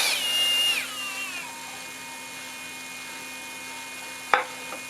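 A drill mounted to drive a power feeder on a band saw ripping thin strips spins up with a brief rising whine, then settles into a steady, moderate motor hum. A sharp click comes near the end.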